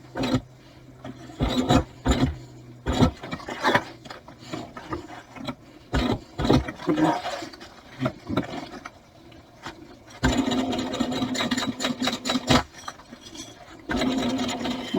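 A sewing machine stitches a bag near a taped-down D-ring in short, loud rattling bursts separated by pauses and quiet handling rustles, with a longer continuous run near the end.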